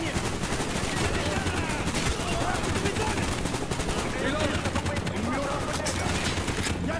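Continuous heavy enemy gunfire in Call of Duty: Black Ops (2010), dense overlapping automatic bursts that run the whole time, with a player talking now and then.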